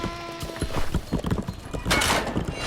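Cavalry horses' hooves clip-clop in the Age of Empires video game, a dense, busy patter of hoofbeats mixed with game sounds and a brief whinny, moderately loud with no talk.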